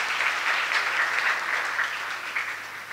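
Steady, dense applause from an audience at an ashram celebration in Lucknow, sustained and fairly loud for the full length with no voices on top.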